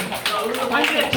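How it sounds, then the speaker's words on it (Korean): Scattered clapping from attendees at the close of a party members' meeting with a district council member, mixed with voices talking over it. "수고해주신 우리 대부분께 박수"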